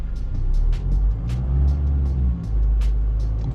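A pickup truck engine, heard inside an Isuzu D-Max LSE 4x4 or Ford Ranger, holding 2000 RPM with a steady low drone and hum, along with faint intermittent clicks, and no voices.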